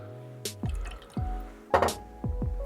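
Pink grapefruit juice poured for a highball cocktail, heard as several short liquid splashes and drips at close range, with no talking over them.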